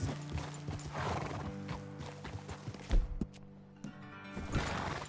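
Hooves clip-clop steadily at close range while a horse whinnies, with a few sharp knocks and thumps mixed in, in the video game Red Dead Redemption 2.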